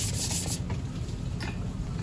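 Short bursts of hand sanding on a brass candlestick, a raspy scratching that comes in uneven strokes, close and soft.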